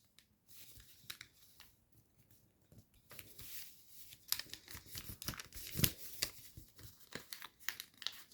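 Paper being folded for an origami fighter jet, heard as quiet, close crinkles and sharp creasing snaps in irregular bursts, growing busier toward the middle, with no talk.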